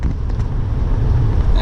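A Banks Derringer-tuned L5P Duramax diesel pickup pulling a loaded trailer up a grade, its loud low engine drone rolling steadily throughout, mixed with road and wind rumble.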